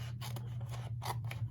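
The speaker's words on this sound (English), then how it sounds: "we're just gonna cut out all the corners" Scissors snip the corners off card paper at a papercrafting table, giving a few crisp, close cuts in an irregular rhythm over a steady low hum.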